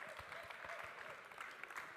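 Audience applause at the Swiss Coffee Festival 2023, a steady wash of clapping hands that holds throughout at moderate, somewhat distant level with no voices on top.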